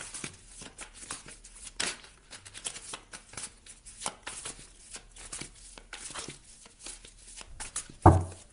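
Tarot cards being shuffled by hand for a five-card spread, a run of quick papery riffles and soft slaps in uneven bursts, close and fairly quiet, ending in a sharper tap, with no talking.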